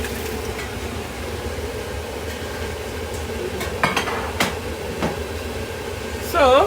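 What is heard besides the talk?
stirring vegetable and fish soup in a pot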